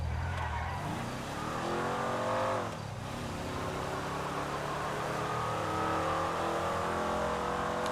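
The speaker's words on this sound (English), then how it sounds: "I would say I'm driving maybe a little reckless for one of these vehicles" In GTA Online, a car driven recklessly in the video game revs hard with its engine climbing and dropping, a brief tire skid near the start, then settles into a steady, loud drone.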